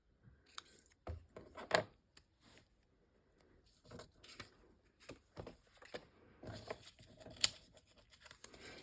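Scissors snip across the corners of a small paper tag in a quiet craft session, giving a series of short, close, uneven cuts and rustles with gaps between them.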